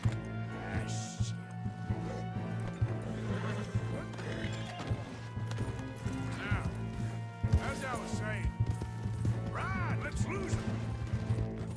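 In Red Dead Redemption 2 gameplay, a horse gallops with clip-clop hoofbeats, whinnies and crashes into objects, with thuds and impacts under ongoing talk.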